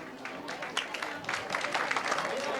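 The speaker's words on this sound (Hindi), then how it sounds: "हम जोरदार तालियों से इनका स्वागत करेंगे।" Audience applause greeting a speaker at a Sanskar Sena talk event, a steady wash of clapping from a hall crowd that builds slightly, with a voice speaking over it.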